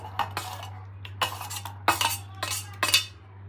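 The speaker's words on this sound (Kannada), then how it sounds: "ಇದನ್ನೆಲ್ಲ ಮಿಕ್ಸಿಗೆ ಹಾಕ್ಕೊತಾ ಇದ್ದೀನಿ" Chopped drumstick (moringa) pieces clatter into a mixer grinder jar for a healthy soup, a series of sharp clinks and knocks, about seven distinct hard impacts spread irregularly, close and fairly loud with no talking.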